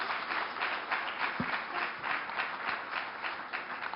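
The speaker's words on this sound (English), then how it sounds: "I think this calls for a round of applause." Steady, fairly faint applause from an audience at a talk on women's empowerment, with many overlapping claps in an even patter and no speech over it.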